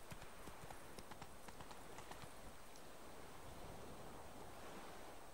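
Hooves of Roach, a horse in The Witcher 3 video game, clip-clopping in a steady rhythm over a broad wash of wind or surf-like ambience, the footfalls fairly faint.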